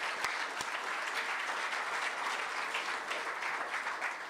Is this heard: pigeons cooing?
no